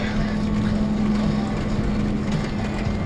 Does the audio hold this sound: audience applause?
no